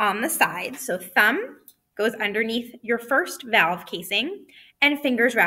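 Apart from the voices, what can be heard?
None of the usual background noises is heard.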